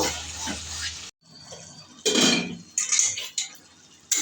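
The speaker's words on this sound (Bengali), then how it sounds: "দিয়ে দিচ্ছি সামান্য চিংড়ি এটা দিয়ে মিশিয়ে আর দু মিনিট মতন কুক করব" Prawns are mixed in a cooking pan for a taro-leaf shukto, with close metallic clinks and scrapes of a spoon against the pan in short bursts separated by brief pauses.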